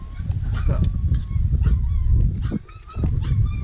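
Loud, close goose honking, repeated harsh calls rising and falling over a couple of seconds, with some background commotion.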